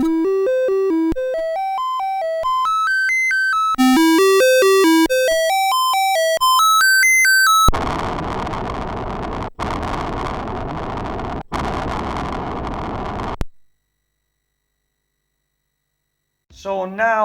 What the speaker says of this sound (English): We're going to switch on this fabulous machine and hear the sounds of the original SID.